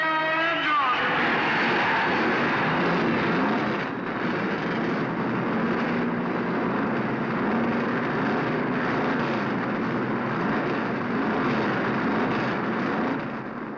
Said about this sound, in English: The engines and the crowd come alive together.